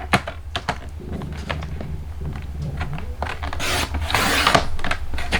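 Paper trimmer slicing a sheet of paper for a photo box, a few soft rubbing scrapes and clicks followed by a brief louder hiss of the blade drawn through the paper, close and quiet, without talk.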